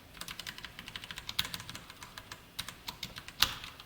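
Rapid, uneven keystrokes of code being typed on a computer keyboard, close and fairly quiet, with one sharper clack near the end and no talking.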